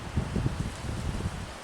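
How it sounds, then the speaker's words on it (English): Gusty afternoon wind in South Carolina at sunset, rushing and buffeting steadily with rustling and microphone rumble, no voices. "It's been windy and gusty all afternoon."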